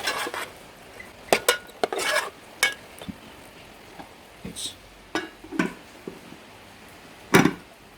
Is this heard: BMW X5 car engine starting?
no